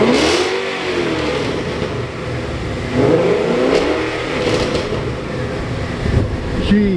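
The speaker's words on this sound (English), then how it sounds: "But I know when he revs it, it should give that perfect throaty tone." A 2014 Mustang GT with a quiet exhaust setup is revved several times, each rise and fall of engine pitch distinct but muted against a background hum, with no clear talk.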